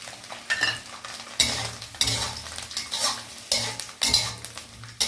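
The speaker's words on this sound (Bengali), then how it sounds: "নারকেল ভাজা হয়ে গেছে, এর মধ্যে আমরা কাজু বাদামটাও একবারে ভেজে নেব।" Cashew nuts sizzle in a pan alongside fried coconut, with repeated scraping stirs of a spatula every second or so and light clinks against the metal, close and fairly quiet, no voices.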